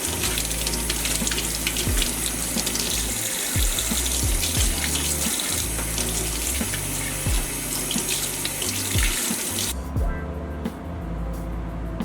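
Dyed illusion mesh fabric rinsed under a running sink tap, a loud continuous gush of water with shifting splashes as the fabric moves, the flow cutting off near the end.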